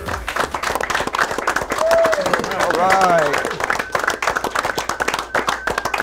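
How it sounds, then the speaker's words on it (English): Studio audience at the Beat the Brains game show clapping and applauding steadily, a dense run of hand claps throughout with a few cheers and a voice speaking over it. "I was going to say hold your applause, and then I said, nah, keep clapping"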